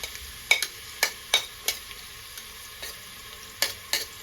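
Onion and garlic sauté in a pan for beef offal papaitan, a low sizzle punctuated by a series of sharp, irregular scraping strokes from a stirring utensil.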